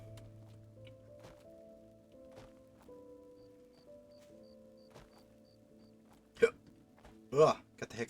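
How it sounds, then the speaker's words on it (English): Hiccups from a character in the fantasy video game Enderal, appearing as a few short abrupt bursts near the end over a quiet humming game background. "got the hiccups, that's cool"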